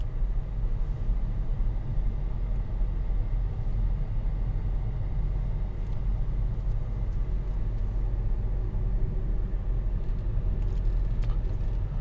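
A car drives along a road through Red Rock Canyon near Las Vegas, a steady low engine and tire rumble heard continuously from inside with no talk.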